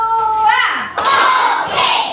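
A classroom group in Indonesia claps together on a teacher's count, with a voice at the start followed by dense, loud bursts of many hands striking at once.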